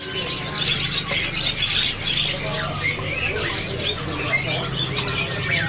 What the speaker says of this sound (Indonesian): Jadi ini penampakan burung murai batu medan betina siapan